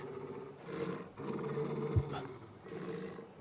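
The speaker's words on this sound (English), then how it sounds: "It's our dog Torgal." Torgal, the dog companion in the video game Final Fantasy 16, gives low rumbling growls in a few drawn-out bursts, close and moderately loud, with no talk over it.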